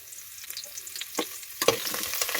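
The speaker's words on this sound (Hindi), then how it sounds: "लगभग 7 से 8 मिनट हो चुके हैं मुझे ये गाजर को भूनते हुए" Carrots roasting in a pan for carrot halwa, with cardamom peel added, sizzle softly while a spoon scrapes and stirs in several quick strokes, close and fairly quiet.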